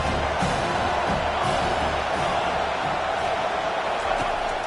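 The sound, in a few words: college football stadium crowd cheering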